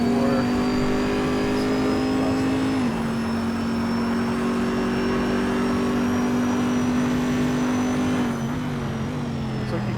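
A race car engine holds a steady high drone on a hot lap of the Nordschleife in the Gran Turismo video game, with a brief pitch drop from a gear change before it climbs again, loud and continuous.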